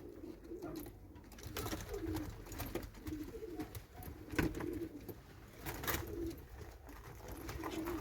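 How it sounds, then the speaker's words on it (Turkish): Mardin pigeons cooing inside a loft, soft low repeated coos overlapping from several birds against a steady room murmur, with no speech. "Hep kendi damızlık kuşlarım bunlar."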